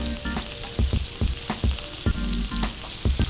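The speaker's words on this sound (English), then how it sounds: "Flipping my chops." Glazed pork chops sizzle loudly in a pan as they are flipped, with rhythmic utensil clacks and scrapes over a steady fry.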